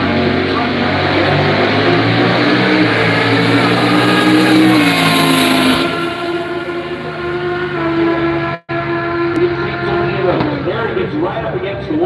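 A muscle car runs hard down a drag strip, its loud, sustained engine note holding for several seconds before easing off as the driver lifts out of the throttle, with an announcer's voice running over it.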